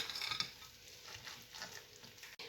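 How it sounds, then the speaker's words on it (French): Spoon stirring chopped apples into cake batter in a bowl, a soft, close, wet scraping and squelching with a few sharper clinks, steady and unaccompanied by speech. "On va mélanger donc nos pommes à la pâte"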